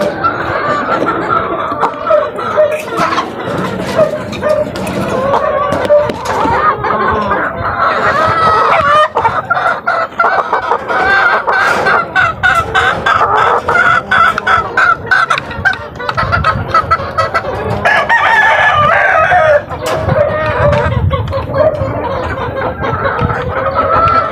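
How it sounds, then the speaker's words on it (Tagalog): Asil breeding chickens cluck and chatter continuously at close range, with a rooster crowing among them and dense overlapping bird calls throughout the long stretch. "Itong aking asil na palahi."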